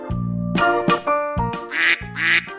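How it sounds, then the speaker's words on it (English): A cartoon duck quacks several times in quick, irregular calls, close and clear, with bright children's-show music playing underneath. "A duck!"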